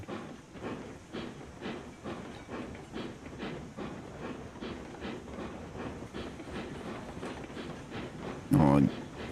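A steam locomotive in the Railroads Online video game starting to move, with rhythmic chuffs and hiss repeating steadily and a brief louder burst near the end; a voice talks faintly over it.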